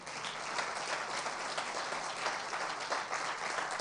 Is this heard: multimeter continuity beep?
no